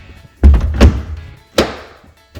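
A car door is pushed shut by hand from the top after new door mirrors are fitted, giving three solid thunks of varying weight, close by, with no talking.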